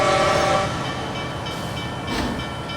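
A freight train pulling away rumbles along the rails at close range, a heavy steady roar with a horn-like tone sounding briefly near the start.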